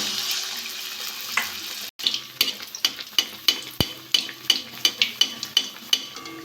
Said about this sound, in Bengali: ব্যাটারের মধ্যে দিয়ে দেবো এই তেলে ছেড়ে দেবো